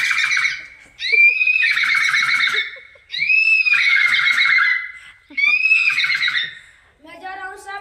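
A person imitates a horse neighing with a voice, giving four loud, shrill whinnying calls with falling pitch, each about a second long, separated by short pauses, and ending with a brief different vocal sound.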